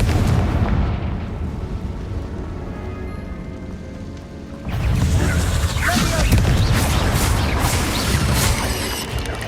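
A Confringo blasting spell goes off in Hogwarts Legacy: a sudden loud burst of fiery, crackling noise about halfway through, sustained roaring debris and crackle after it, over steady ambient rumble, with a voice speaking in the clip.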